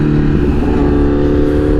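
A liter-class sport motorcycle accelerates hard, its engine roaring loud and steady at close range with a dense, continuous exhaust note and no pause throughout.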